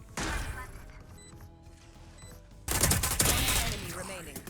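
Gunfire from the video game Valorant breaks out in two dense bursts of rapid shots, the second louder and sustained, filling the whole clip with sharp, close crackling.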